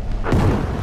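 A stick grenade goes off in the Battlefield V open beta: a single short, dull boom that swells briefly and then fades into the surrounding game noise.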